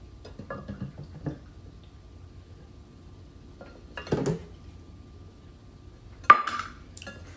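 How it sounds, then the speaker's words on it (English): Peach cobbler batter being whisked with milk in a bowl: scattered light clinks and taps of a whisk against the dish, mostly quiet with a sharper clink near the end, no talk. "I'm just going to kind of whisk that together"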